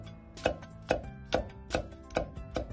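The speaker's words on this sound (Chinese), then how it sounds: "再把美人椒斜刀切成片" A knife chops red chili peppers diagonally on a cutting board, six crisp, evenly spaced strokes in a steady rhythm, close and clear with no talking.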